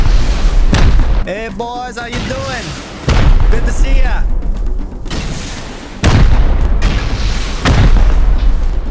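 Explosions blasting a rock in Rust, several loud heavy booms spaced a few seconds apart, each with a sharp onset and rumbling tail, with someone talking in between.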